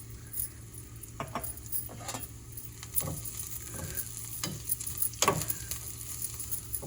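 Curry sizzles softly in a pan with spice powders such as garam masala and sesame powder, stirred with scattered scraping and clinking strokes over a low, steady frying hiss.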